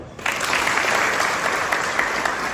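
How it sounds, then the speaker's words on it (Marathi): A crowd of people at a village meeting breaks into loud, sustained applause, dense and continuous clapping close by for a few seconds. "पण आता जोरात टाळ्या वाजवा"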